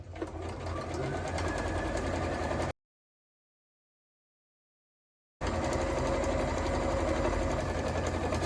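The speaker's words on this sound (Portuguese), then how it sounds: "mantenho a agulha baixada para que não saia do lugar, viro o pé calcador e continuo aqui nivelado com a lateral" Sewing machine stitching fabric around a corner, a steady motor whir in two bursts separated by a few seconds of silence, fairly close.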